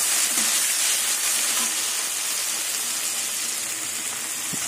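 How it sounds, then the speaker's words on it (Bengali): Prawns frying in hot oil, a dense, steady close-up sizzle with a few faint clinks, loud and unbroken, no talking. "মাছটা ভেজে নেব।"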